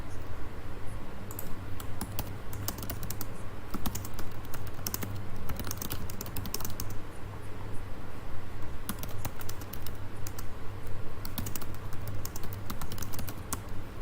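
A computer keyboard tapped in quick bursts of clicking keystrokes, close and fairly loud, with brief pauses between runs and a low steady hum underneath.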